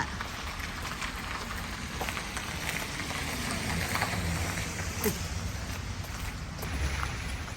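Rain falling outdoors on a cold day: a faint, steady hiss and patter of drops that holds evenly throughout, with occasional soft taps.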